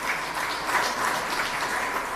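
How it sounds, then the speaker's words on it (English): Steady applause from a crowd at a television studio handover ceremony, a dense wash of clapping that holds evenly throughout the short clip. "Round of applause, please."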